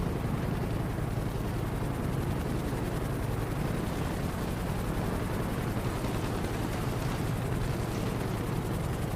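Combat helicopters in GTA, such as the Havoc and minigun-armed Sea Sparrow, give a steady, dense rotor and engine roar that stays loud and unbroken throughout, with no talk.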